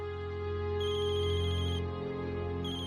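A phone ringtone plays a steady electronic melody with tonal bursts repeating in a pattern, moderately loud and alone with no talking.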